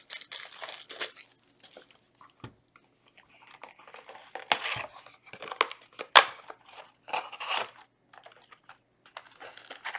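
A Yu-Gi-Oh Metal Raiders booster pack is torn open and handled close up: sharp, irregular crinkles and crunches of foil wrapping in bursts, with quiet gaps between them and no talking.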